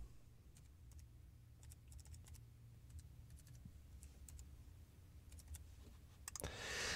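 Typing on a computer keyboard, a steady stream of quiet, close keystrokes in irregular bursts, ending with a louder rustle.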